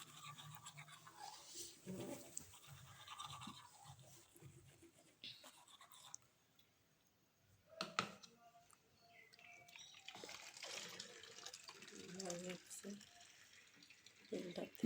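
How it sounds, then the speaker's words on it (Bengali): A toothbrush scrubs teeth during morning brushing, quiet close scraping strokes in uneven bursts with a short pause midway and faint trickling water. "সকালবেলা ব্রাশ করছি"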